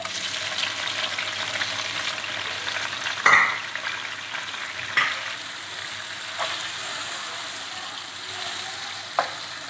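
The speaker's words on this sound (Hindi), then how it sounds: "अब हमने जो है टमाटर को डाल दिया है ऑयल में, थोड़ा सा टमाटर फ्राई होगा" Tomatoes fry in about a cup of oil for chicken karahi, a steady soft sizzle punctuated by a few sharp clacks of a stirring spoon against the pan.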